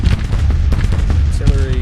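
Rapid, dense artillery and gunfire in a war video game, loud rumbling booms and crackling shots packed tightly together with a brief tonal whine near the end.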